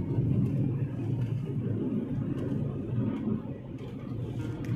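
Steady low engine and road rumble inside a car on a long drive from Dombivli to Alibag past Panvel, a continuous close, even drone with no talk.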